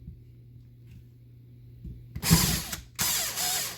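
Drill bit spinning in reverse to clear a clogged hole and break burrs free, in two loud bursts of whirring and grinding after a quiet stretch of faint low hum.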